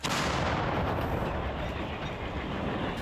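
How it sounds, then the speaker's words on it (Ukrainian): A heavy artillery boom hits at once and rolls on as a loud, rumbling blast that slowly fades over a few seconds. "Гармата постріл."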